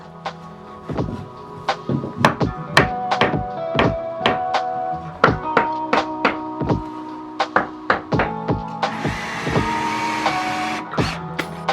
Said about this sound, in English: To really get it in, you just want to bang it with a hammer.